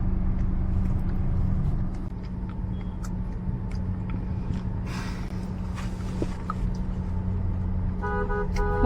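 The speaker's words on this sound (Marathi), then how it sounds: "खूप मोठं ट्रॅफिक आहे संगमेश्वरचं" Heavy road traffic at Sangameshwar on a journey toward Mumbai, with a constant low engine rumble and several car horns tooting intermittently, some close and sustained near the end.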